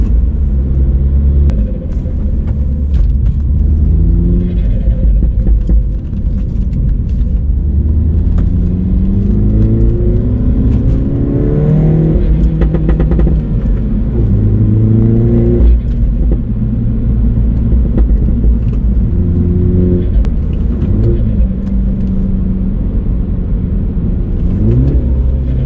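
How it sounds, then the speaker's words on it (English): A car with a manual gearbox is driven and downshifted, its engine rumbling steadily and loudly throughout while revs rise and drop in repeated sweeps between gear changes, with no talking. "Downshifts right there, it shows just how easy it is to learn with these shoes."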